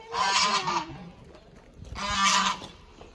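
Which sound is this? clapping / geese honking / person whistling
geese honking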